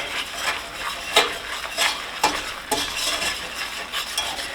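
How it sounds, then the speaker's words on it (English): A roux made with turkey fat browns in a pan for gravy, soft sizzling under repeated scraping strokes of a utensil against the pan, close and unhurried. "We'll keep browning that roux."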